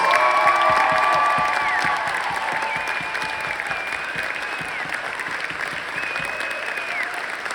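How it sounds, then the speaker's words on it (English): An audience at an evening show breaks into sustained applause with scattered cheers and whoops, loud at first and then settling into a steady wash of clapping. "give these folks one more round of applause"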